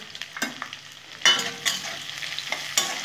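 Onions fry in a pan while a spatula stirs them, producing a constant sizzle punctuated by several loud, close scraping strokes at irregular intervals.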